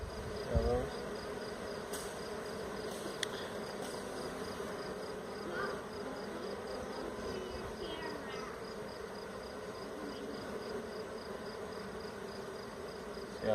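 A honey bee swarm hums steadily throughout, a soft continuous buzz of many insects heard close by and fairly quiet, with no talking over it.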